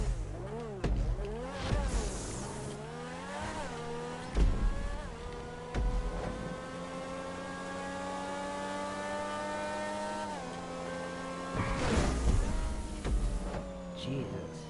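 An X80 Proto supercar in a GTA 5 race revs hard through repeated gear shifts, a high engine whine climbing and dropping, loud and close, with a few brief louder bursts.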